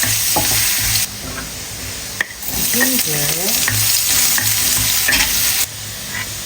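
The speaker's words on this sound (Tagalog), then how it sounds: "Add ulit tayo ng ating cooking oil, garlic and ginger." Garlic and ginger sizzle in hot cooking oil for a stir fry, a loud, steady close-up frying hiss with scraping stirring sounds and a few brief clanks on top.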